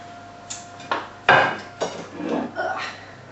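Chopped mange tout, celery, red pepper and courgette tumble into a bowl in a quick series of soft thuds and clatters, one sharper knock among them.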